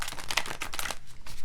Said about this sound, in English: These cards are kind of big. It's hard to shuffle